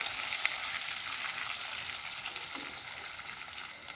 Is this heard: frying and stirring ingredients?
yes